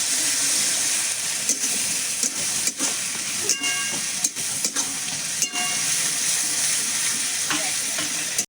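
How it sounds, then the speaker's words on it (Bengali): Spices sizzling and frying in a pan for Korai chicken, a steady loud hiss with the occasional scrape and clack of a spoon stirring, with no talking. "দিয়ে আমি মশলাটা একটু কষিয়ে নেব।"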